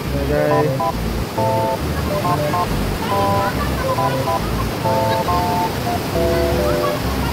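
A strong river current at a river park rushes loud and close as a continuous broadband roar of flowing water, while a person talks and other voices come and go over it.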